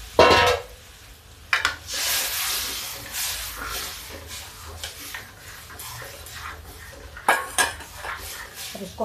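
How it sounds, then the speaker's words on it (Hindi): A spoon stirs kadhi, a yogurt and gram-flour curry with turmeric, chili and onion, in a metal pot, giving repeated clinks and scrapes against the pot with a faint simmering hiss underneath. "इसको हम ऐसे चलाते रहेंगे जब तक कि ये दही, जो कढ़ी हमारी उबलने नहीं लगे"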